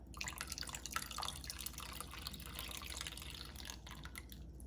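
Water drips and trickles in a kitchen while sediment is dissolved for khao liang fenh, a faint, busy patter of droplets and splashes over a low background hum.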